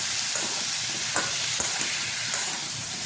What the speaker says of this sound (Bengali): কুমড়োটা দেওয়ার পরে মাঝারি না নাড়াচাড়া করে কুমড়োটাগুলোকে একটু ভালো করে ভাজা ভাজা করতে হবে